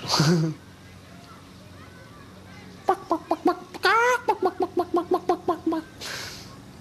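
A voice imitates a chicken in a cartoon about art: a quick run of about a dozen evenly spaced, close clucking calls, preceded by a brief squawk and a stretch of quiet background.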